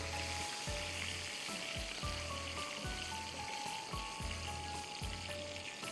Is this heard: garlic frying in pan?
yes